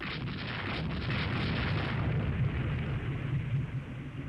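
Rapid gunfire in the naval warfare game Rule the Waves 3, a dense continuous rattle of bursts and booms at steady moderate loudness with no voices.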